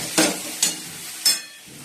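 Potatoes go into a pan of frying curry base for aloo dum: three sharp bursts of sizzling as pieces hit the hot oil, each fading into a low steady crackle, close and fairly loud.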